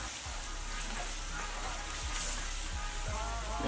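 Flour being stirred into a sizzling pan while making Salisbury steak: a steady, bright frying hiss throughout, with a few soft low scrapes of the spoon across the pan.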